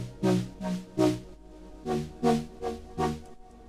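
A synth chord patch is chopped into a syncopated rhythm for an EDM drop. Punchy stabs come in uneven groups with a brief gap in the middle, and no voices are heard.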